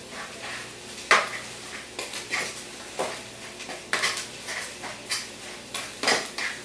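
Meatball mixture with parsley, oregano, basil and breadcrumbs being mixed in a bowl, a series of irregular knocks, scrapes and clinks of a utensil against the bowl, close and intermittent over a quiet background.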